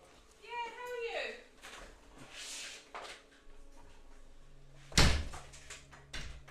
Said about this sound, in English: Sorry guys, my door.